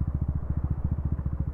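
A motorcycle ridden by police passes on a road, its engine a low, steady pulsing rumble with regular throbbing beats, fairly close and moderately loud.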